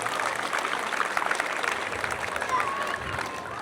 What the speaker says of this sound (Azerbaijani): ilk müəllimlərimizi bir gürültülü alqışla yola salırıq